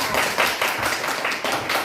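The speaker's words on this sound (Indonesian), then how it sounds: "tepuk tangan untuk kita semua" Students clapping together in a classroom in short rhythmic bursts, a few quick group claps repeated for a couple of seconds.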